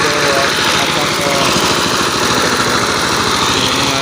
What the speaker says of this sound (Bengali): দেখতে পাচ্ছেন যে কী পরিমাণ হাই স্পিডে কিন্তু মেশিনটা আজকে চালানো হচ্ছে